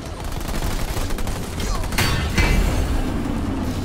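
Gunfire from the real-time strategy game Halo Wars 2 during an online one-on-one match, a continuous rattle of rapid shots and small bursts layered over a dense, steady battle din.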